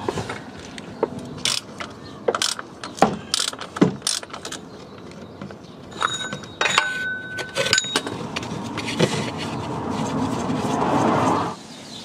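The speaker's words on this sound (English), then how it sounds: "it's going to remove the oil filters, and I'm going to use my socket oil filter removal" A socket-type oil filter removal tool works a car engine's oil filter loose, giving close clicks, knocks and metallic clanks in irregular bursts, then a rising whir near the end.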